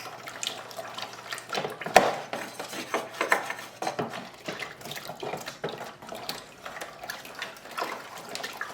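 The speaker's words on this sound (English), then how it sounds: "you're going to stir it and mix it in as much as you can." A spoon stirs a homemade red wine mixture in a container, giving a sequence of close, irregular sloshes, swishes and light clinks. Several sharper knocks stand out against the low, wet churning.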